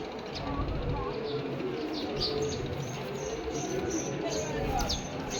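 Racing Budapest pigeons coo softly and repeatedly amid scattered chirps and a busy, murmuring background.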